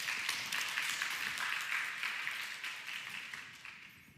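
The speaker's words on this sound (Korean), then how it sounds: "우리 한 번 더 박수로 환영하도록" Church congregation applauding to welcome two young women at a Sydney Korean church service, a dense even clapping that holds steady and then gradually fades toward the end, with no talking.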